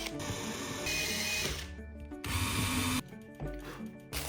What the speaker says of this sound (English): I took my drill and a scrap piece of wood, then got to work drilling tiny holes in the corners of the photos.